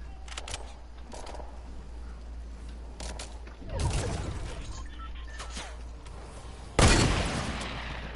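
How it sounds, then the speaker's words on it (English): Fortnite gunfire comes as scattered bursts of shots, a few faint cracks early, then two louder, sharper volleys, each followed by a fading echo over a low steady hum. "They're shooting from behind us, bro."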